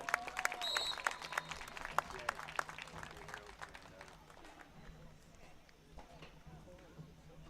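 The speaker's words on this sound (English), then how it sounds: "Please give a round of applause for Shay Linden." Scattered outdoor clapping for a student athlete at a high school track meet, busy with sharp claps for the first few seconds and then thinning out under low background noise.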